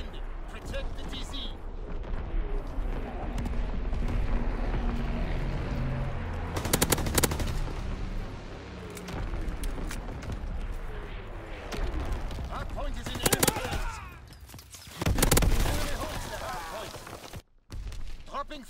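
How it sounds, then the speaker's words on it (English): A WW2 video game battle where enemy artillery comes in, with heavy booming blasts and rattling gunfire surging in several bursts over a constant din, while voices speak throughout. "Incoming enemy artillery"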